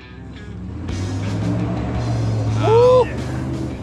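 An old pickup truck engine runs at a steady idle, a low constant rumble close by, with a brief voice sounding over it.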